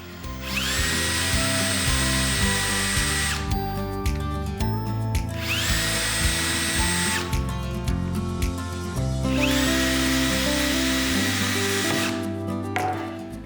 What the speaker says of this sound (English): now I want to drill holes to attach about here, here,